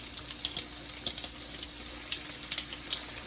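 Cabbage and sweet pepper tipped into a hot pot for a Jamaican-style steamed cabbage dish give a soft, steady sizzle, with faint crackles and small clinks over low kitchen background.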